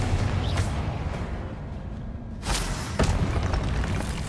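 A Confringo spell bursting in the video game Hogwarts Legacy, heavy booming thuds over a dense rumbling bed, with two sharp blasts standing out near the middle of the clip.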